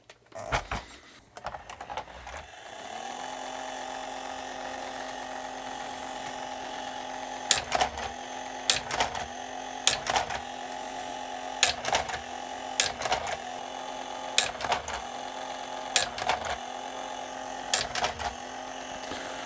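A Gnome 7106 slide projector, freshly reassembled, runs with a steady motor hum and whir, punctuated by loud periodic mechanical clacks roughly every couple of seconds as the slide mechanism cycles; no talking.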